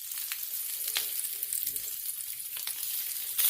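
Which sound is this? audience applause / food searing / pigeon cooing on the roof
food searing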